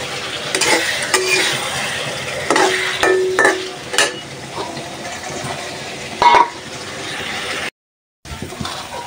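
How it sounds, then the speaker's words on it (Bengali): Fish is sautéed with spices in a pan, a loud steady sizzle broken by spatula scrapes and taps against the pan, with a short gap of silence near the end. "তো মাছগুলো কষায় উঠায় রাখছি।"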